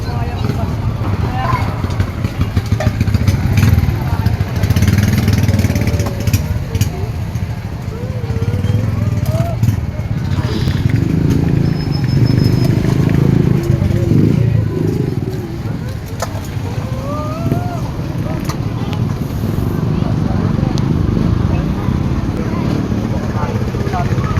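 Motorcycle engines roar past close by in a steady, loud rumble while people talk over the noise.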